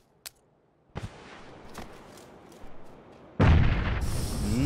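A grenade detonates in a video game: a quiet stretch with a couple of soft pops, then a sudden loud blast that booms and rumbles on to the end.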